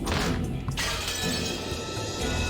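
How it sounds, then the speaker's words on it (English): A glass window shatters as it is struck with an antique chair in a video game, a loud burst of breaking glass with a second crashing impact, close and harsh. "The glass smashed with a violent sound and the frame groaned and creaked."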